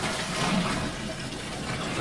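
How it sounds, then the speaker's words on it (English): Cold water pouring and splashing steadily into a homebrew fermenter, a continuous broadband gush that stays loud and even throughout, with no voices. "we'll start filling this up with cold water"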